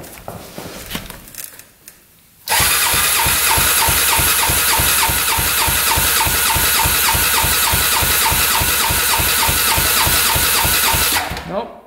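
A quad ATV engine cranks over steadily with the throttle open during a compression test, a loud, fast, even rhythmic chugging that runs for about nine seconds after a short noisy pause.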